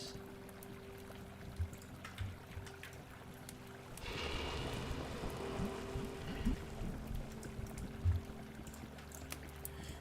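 Molten metal pouring in the crafting game Vintage Story, set in a snowy arctic world: a soft, continuous liquid pour swells in at mid-clip over a low ambient hum, moderately loud and close, with no talking.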